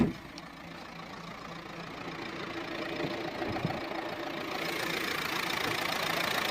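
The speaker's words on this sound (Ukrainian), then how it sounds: "Двигун працює рівненько, без потусторонніх шумів" A 2012 Renault Megane III engine idles steadily with a low rumbling hum and faint rattle, continuous and close, growing slightly louder toward the end.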